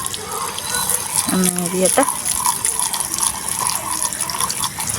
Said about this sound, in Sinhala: අපේ ඒකේ ප්‍රෙෂර් එක වැඩි නිසා වතුර වල ප්‍රෙෂර් එක වැඩි